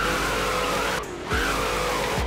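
Tires squeal loudly in a long skid as a Corvette C6 drifts in Roblox Peak Drift over a revving engine, with a brief break before the screech resumes.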